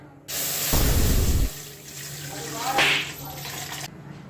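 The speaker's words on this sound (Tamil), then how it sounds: "பால் ஊற்றிடலாம்" Milk pours into a pan for making payasam, a steady liquid splash lasting a few seconds with a heavier gush early on, heard close up in a kitchen.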